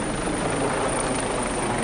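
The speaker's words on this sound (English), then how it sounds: "There's a helicopter overhead now." A helicopter dropping water over a Southern California wildfire drones overhead as a steady, loud, dense roar with no break.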